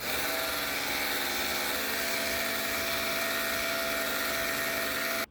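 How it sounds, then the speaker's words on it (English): A small power washer on its rinse cycle sprays water in a loud, steady, close hiss with a motor whine underneath, running without a break and with no talk, while seedling starters in a garden nursery are watered. "I'm going to take the rinse cycle on my here little power washer, and I was going to use the rinse cycle and give them some watering"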